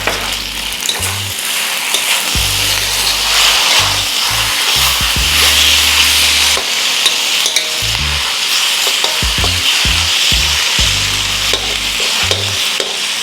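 Sauce hits beef chow fun frying in a hot wok, a loud continuous sizzle with repeated scraping and stirring strokes of the spatula and clanks against the pan, no talk.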